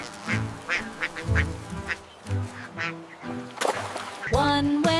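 Ducks quack repeatedly in short, nasal bursts, close and lively, with a burst of louder, rapid quacking near the end.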